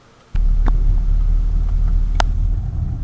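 A 1956 Studebaker Golden Hawk with its stock engine on a road test starts up abruptly after a quiet moment, then holds a loud, steady low rumble with a few faint clicks and knocks over the drone.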